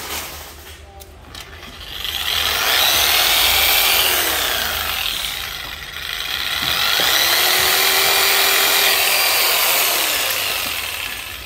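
A jigsaw buzzes in two long bursts with a short dip between them, a bright whine over rasping cutting noise, with a voice talking under it at moments.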